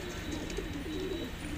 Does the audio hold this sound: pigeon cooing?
yes